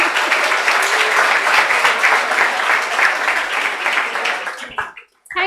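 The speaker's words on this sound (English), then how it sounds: "Big round of applause" An audience at a self-worth talk applauds the speaker in a full, steady burst that thins out near the end, with a brief voice at the close.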